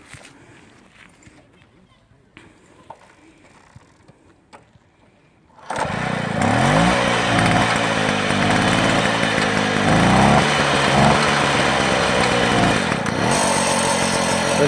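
A 1950s-era Motobecane AV65 moped engine catches after about six seconds of quiet, low background noise, then runs loud and steady with a buzzing, slightly uneven two-stroke drone close by.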